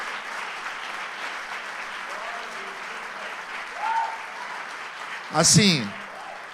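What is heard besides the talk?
church congregation applause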